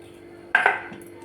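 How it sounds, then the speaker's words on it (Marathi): Hot tadka (tempering) being poured into a dangar mixture in a pot, a sudden sizzling hiss that bursts out loudly and then fades over about half a second. "याच्यामध्ये तडका हा ओतून घ्यायचा"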